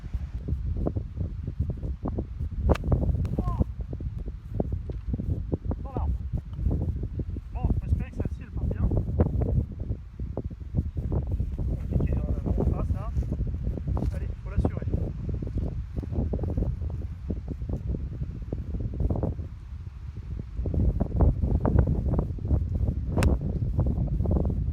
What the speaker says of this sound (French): Il y a beaucoup de vent, je ne sais pas si vous entendez.